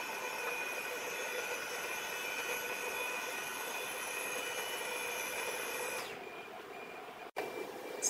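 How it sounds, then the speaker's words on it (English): The auto-loading and unloading table of a CNC cabinetry-making machine running with a steady mechanical whine and hum, several tonal lines humming together, then the motor stops near the end, leaving a quieter hiss and a sharp click. "turn on auto-loading and unloading table"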